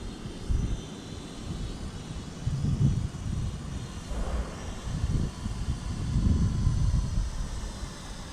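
Outdoors in a rising breeze, a Sanrock X105W quadcopter drone flies with a steady low droning whir, heavily mixed with wind buffeting that swells and fades throughout.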